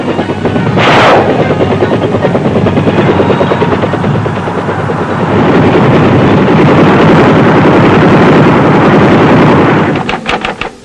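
Troop-carrying military helicopters fly close and loud, a continuous heavy rotor thumping and engine roar that persists throughout with rhythmic chopping texture.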